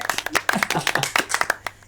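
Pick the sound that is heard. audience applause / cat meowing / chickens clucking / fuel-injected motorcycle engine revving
audience applause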